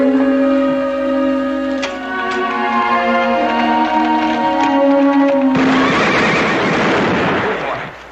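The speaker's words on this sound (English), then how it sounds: "You trying to scare this horse half to death?" A horse whinnies over a steady musical backdrop, followed by a loud rushing noise near the end.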